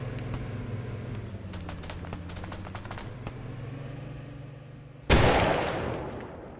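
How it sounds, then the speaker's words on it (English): Incoming rounds in ARMA 3 sound as a few scattered, distant cracks over a steady low engine-like hum, then a single loud, close blast near the end that slowly decays. "they've got hardcore rounds coming in on them"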